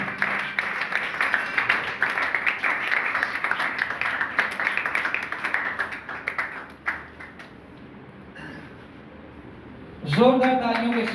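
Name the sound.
loud clapping from the church congregation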